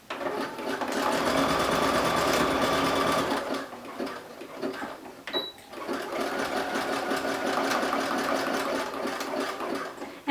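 A sewing machine runs steadily at close range, stitching elastic into the waistband of a ruffled baby diaper cover, with a dense rapid mechanical whir, a short pause midway, then continuous sewing again.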